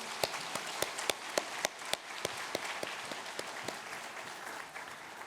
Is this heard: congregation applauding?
yes